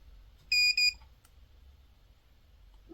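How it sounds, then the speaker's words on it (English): A KAIWEETS KGP01 pinpointer metal detector gives two short, high electronic beeps in quick succession, close and clear, then a quiet room with a faint click. "It did beep at me."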